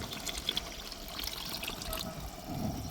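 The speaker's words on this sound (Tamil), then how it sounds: "மசாலாவில் நம்ம புளி தண்ணி க கரைச்சி ஊற்றியாச்சு மீதியை நம்ம இப்போ சேர்த்துக்கிறோம்" Tamarind water is poured into a fish curry masala for a rock fish curry, giving a steady, soft liquid splash and trickle at moderate distance with no talking over it.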